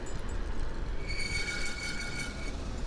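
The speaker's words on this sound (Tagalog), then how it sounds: "Ingay ng preno ko." Brakes squeal near railway tracks on a wintry Zagreb street, a steady high-pitched tonal whine over low rumble that lasts the whole time.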